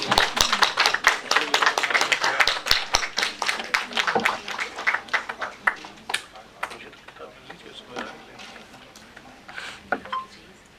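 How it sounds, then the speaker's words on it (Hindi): An audience at a commemoration and book launch ceremony welcomes a speaker with warm applause. The clapping is scattered at first, then thins into a few separate claps toward the end, with faint talk underneath. "मित्रों, तालियों से स्वागत कीजिए।"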